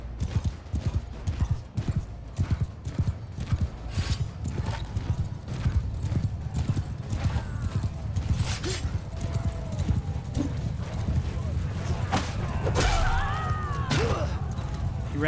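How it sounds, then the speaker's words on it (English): Horse hooves clip-clop at a rapid galloping rhythm throughout a Mount & Blade II Bannerlord battle, loud and close, with occasional neighs, clashing and crashing battle noises mixed in. "I don't want to be running fast as I can go on a horse"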